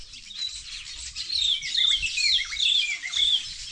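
Two different kinds of birds chirp and tweet outdoors in a steady run of bright, repeated calls, fairly near and clear, over faint low background rumble.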